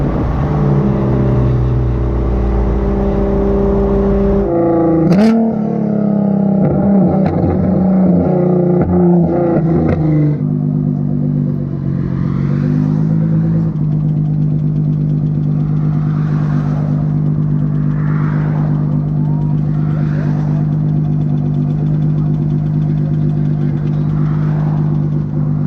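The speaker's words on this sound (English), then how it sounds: "the car is like misfiring and sputtering" A 1000+ HP Hellcat car engine idles roughly, misfiring and sputtering with a loud, uneven chug; a rising rev opens the sequence before it settles into a steady, stumbling idle heard up close.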